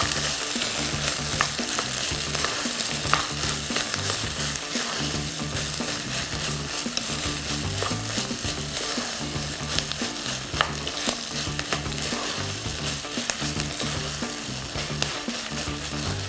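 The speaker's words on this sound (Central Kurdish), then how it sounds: "تا لەسەر ئاگر بێ هەم جوانتر کەرەستەکان هەمووی سوورە بێتەوە" Vegetables and potato fry in hot oil over a flame, giving a dense, steady sizzle with stirring scrapes and crackles that run the whole way through, close and loud, with no talking.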